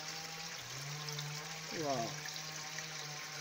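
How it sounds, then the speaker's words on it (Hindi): Water running out from under a stone in the jungle, a steady, close trickling flow that continues throughout the clip, with a brief exclamation from a voice near the middle. "पानी पत्थर के नीचे से निकल आ रहा है देखो।"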